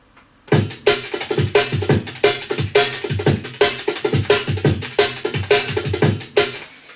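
Fast, sped-up funk drum break arranged for drum and bass, with crisp metallic snare hits, razor-sharp hi-hats and punchy kicks in a busy, driving rhythm, loud and without talk.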